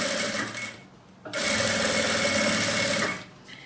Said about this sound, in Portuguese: Já vou passar a costura aqui na lateral.